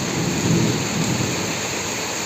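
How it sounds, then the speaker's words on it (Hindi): Steady, dense downpour roars without a break, a thick wash of heavy rain hitting surfaces, with a low rumble underneath and no voices. "हाँ, बारिश बहुत ज़्यादा हो गई है।"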